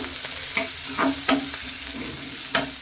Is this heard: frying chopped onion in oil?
yes